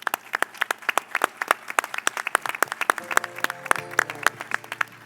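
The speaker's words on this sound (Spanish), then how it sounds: "les pido un fuerte aplauso" A conference audience claps for a panel in a moderate, uneven patter of individual claps, steady throughout with a faint hum beneath.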